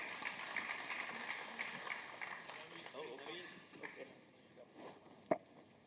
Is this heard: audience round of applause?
yes